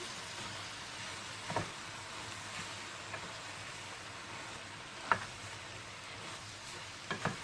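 Spices being stirred into an olive-oil eggplant dish in a pan, a faint, steady low sizzle with a few soft utensil scrapes and taps scattered through, close but quiet, no voices.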